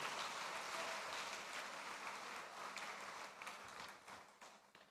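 Thin, faint applause from a conference audience at the Africa Prosperity Dialogues 2026, with scattered individual claps tapering off toward the end.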